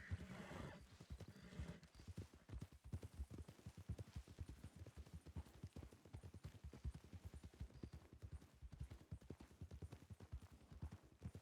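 Horse hooves clip-clopping in the WildRP (Red Dead) video game, a rapid, steady clopping gallop after a brief opening whinny, moderately close and fairly quiet throughout.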